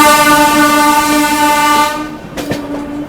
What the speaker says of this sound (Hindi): बिहार संपर्क क्रांति को ओवरटेक मार के निकल रही है अपनी गाड़ी आगे यहाँ